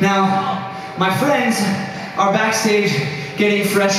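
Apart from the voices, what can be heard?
No everyday noise stands out behind the speech.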